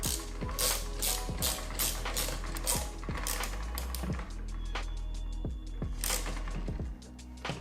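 Fuse holders being fastened onto a stainless bracket with a ratcheting tool for a REDARC dual battery setup: repeated close clicking ratchet strokes in a steady rhythm, fairly quiet, with no talking.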